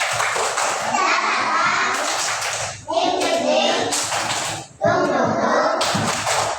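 First-grade pupils at an elementary school in Palembang do a rhythmic clapping cheer, with sharp claps punctuating loud group chanting by young voices, close and energetic in a classroom, in several distinct bursts.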